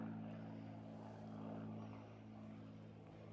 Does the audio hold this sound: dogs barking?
no